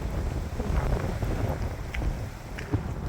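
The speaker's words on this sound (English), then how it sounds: "It's so windy today." Strong spring wind buffets the microphone on a walk through Albuquerque, a low, rumbling roar that swells and eases in gusts.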